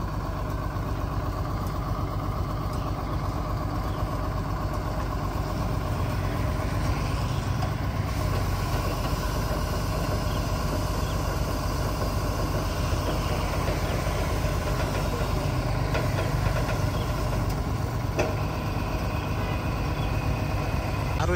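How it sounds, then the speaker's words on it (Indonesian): A crane truck's engine idles steadily near a box truck being recovered on a roadside: a continuous, loud, low diesel drone that holds without change throughout, with no clear talk over it. "Dan krennya akan berpindah ke belakang, menarik, mengangkat buntutnya belakang truk box Isuzu Elf ini."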